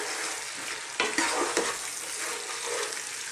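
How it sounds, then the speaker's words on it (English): Diced onion, carrot, potato and zucchini stirred in a pot, a steady close sizzle of frying vegetables with a few clunky scrapes of the spoon near the middle, no voices. "Give this a little stir."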